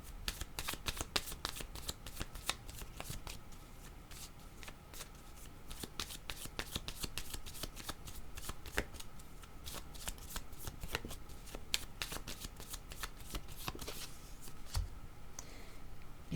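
Tarot cards shuffled by hand, a long run of quick, crisp riffling flicks close by, soft in level and continuing steadily with only brief pauses.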